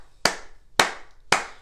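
Three sharp hand claps spaced evenly about half a second apart, close and loud with quiet gaps between, demonstrating a steady rhythm in a music lesson.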